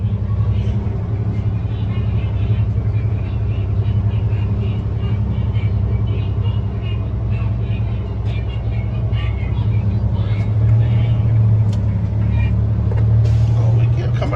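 An International logging truck engine rumbles steadily as it churns through mud in south Mississippi after a severe thunderstorm. The deep, constant drone is close and loud throughout, with indistinct voices faintly in the background.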